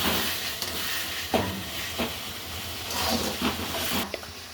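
Tomatoes sautéing in a pan for chicken gravy: a steady hiss of frying, with a few stirring knocks rising above it now and then.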